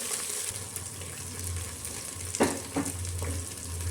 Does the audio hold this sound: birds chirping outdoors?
no